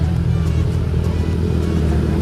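A Grab rider's vehicle drives along with a loud, steady, close engine rumble and road noise that runs unbroken throughout.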